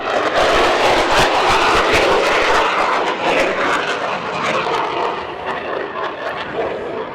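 A stealth fighter jet roars through a fast pass at an air display, loud and close at first, its broadband engine rumble then fading slightly as it moves away.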